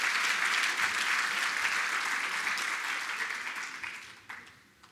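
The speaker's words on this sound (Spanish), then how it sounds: "Un aplauso para ellos, por favor." A crowd at an awards ceremony claps in sustained, dense applause that holds steady for several seconds and then tapers off toward the end.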